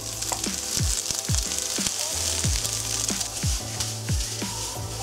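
Garlic, ginger, chili and scallions sizzling in a hot pan for beef and broccoli, a loud, steady hiss of frying with repeated rhythmic scraping strokes as the pan is tossed or stirred.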